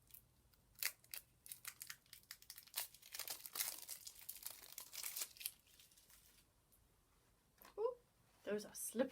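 Board game card packs for Marrying Mr. Darcy are unwrapped and torn open, making close bursts of crinkling plastic and tearing wrapper. Brief spoken remarks come near the end.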